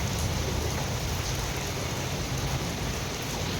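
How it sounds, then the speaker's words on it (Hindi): Heavy rain pours steadily outside, a dense, even hiss of drops striking surfaces with no pauses and no voices. "बाहर बहुत तेज़ बारिश आ गई है"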